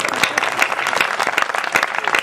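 Audience at a Hindi comic and satirical poetry recital breaks into loud, dense applause, many hands clapping rapidly and close by in a continuous burst with no speech over it.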